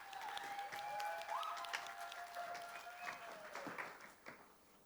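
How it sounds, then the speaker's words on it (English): Applause from an audience at a talk on ocean health and economics, steady clapping held at moderate level for several seconds, mixed with a sustained tone, with no speech over it. "Let's give a round of applause for Ralph."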